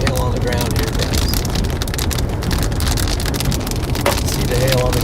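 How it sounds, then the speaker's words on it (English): Hail patters steadily and densely on the ground and surroundings during a storm in Collinsville, Oklahoma. It forms a loud, constant hiss of many small impacts, and brief sounds rise above it now and then. "There's a bunch of hail on the little bit of hail on the ground here"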